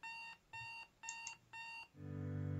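An alarm clock in Doki Doki Literature Club beeps four times in an even repeating pattern, then a steady musical tone takes over for the final moments.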